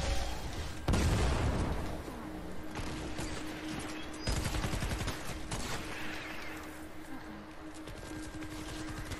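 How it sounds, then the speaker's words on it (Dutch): Video game gunfire from the Save the World shooter comes as rapid bursts and scattered shots, some sharp and loud, over a busy mechanical background. "Oh, ik schiet alle headshots."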